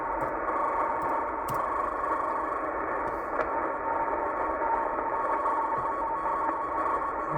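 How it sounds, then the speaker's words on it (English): A steady, buzzing radio teletype data signal on shortwave between 12 and 13 MHz drones without pause, a dense warbling hiss, even in loudness throughout. "Sort of sounds like a radio teletype signal."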